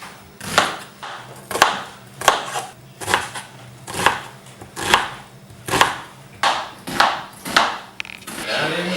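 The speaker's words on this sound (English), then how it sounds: "Keep it tight, and then we chop down." A knife chops food on a cutting board in about ten steady, distinct strokes, each a crisp knock, close and clear with no talk over them.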